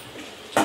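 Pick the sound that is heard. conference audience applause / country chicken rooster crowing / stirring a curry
stirring a curry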